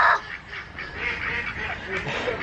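Ducks and geese at a pond give a run of honking calls, moderately faint and with no one speaking.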